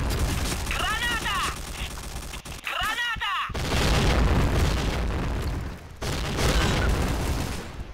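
Grenade blasts and gunfire in the online shooter Point Blank, with loud bursts and booms piling up across the whole stretch and a sharp drop near the middle, while someone talks excitedly over the din.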